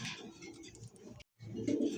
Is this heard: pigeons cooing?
yes